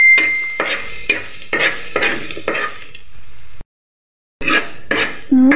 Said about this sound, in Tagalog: let's gisa-gisa na the bawang until it's golden brown.